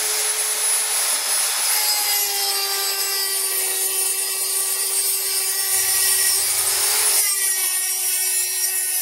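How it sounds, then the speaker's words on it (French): A Dremel rotary tool cuts a slot for a rail in a wooden bandsaw table, giving a steady, loud, high-pitched whine and grinding rasp that runs continuously from close by. "Alors là, je découpe le passage du rail."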